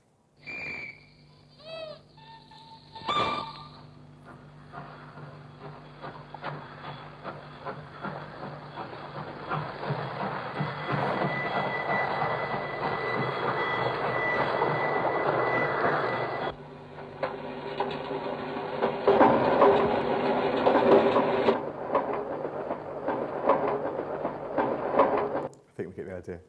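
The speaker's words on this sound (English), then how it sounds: "which is entirely made out of train sounds of trains." Busy collage of mechanical clatter, hisses and whistle-like tones, built up in dense layered sections that shift abruptly: a musique concrète piece by Pierre Schaeffer assembled entirely from recorded train noises.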